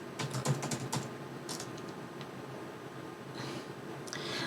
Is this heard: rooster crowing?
no